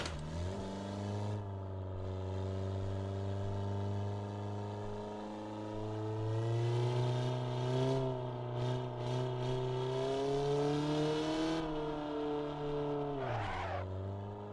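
Volkswagen Golf with failing brakes is driven in the Assetto Corsa racing game. Its engine drones and whines steadily, rising and falling in pitch as it revs through gears, with a short squeal near the end and no voices.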